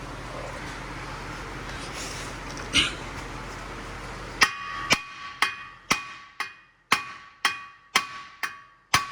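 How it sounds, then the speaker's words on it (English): Metal hammer blows on a Mercury Milan passenger-side CV axle ring out in a steady series of about ten sharp, clanging strikes, close and loud, after a stretch of quieter workshop noise. "I use only my hammer"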